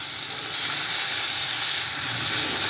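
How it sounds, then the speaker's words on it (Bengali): Magur catfish frying lightly in a pan, giving a steady, even sizzle with a bright hiss that holds for under three seconds. No one speaks over it. "মাগুর মাছ বেশি ভাজবো না হালকা করে একটু ভাজবো উল্টে পাল্টে নেবো"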